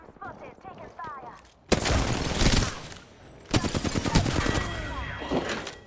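Apex Legends gunfire erupts in two loud bursts of rapid, crackling shots, the first from just under two seconds to nearly three, the second from three and a half seconds to the end, with a quieter stretch of game sounds before.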